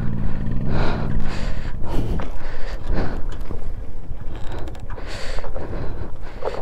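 A Royal Enfield motorcycle with low air intake on a Ladakh ride being kick-started, its rough engine rumble loud and close, heavily buffeted by steady wind noise throughout.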